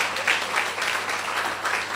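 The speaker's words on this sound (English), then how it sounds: "Clap for her." Audience applause at the Nairobi book launch of Rebeka Njau's Ripples in the Pool, a brief, moderate burst of hand clapping from a small crowd, steady throughout with no voices.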